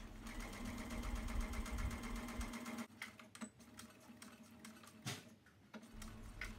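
Sewing machine stitching a fabric pillow cover corner near Velcro, running steadily for about three seconds with a fast rhythmic hum, then short stop-start bursts of back stitches, close up and with no talking.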